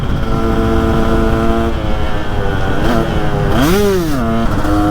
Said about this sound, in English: A two-stroke supermoto might be the move.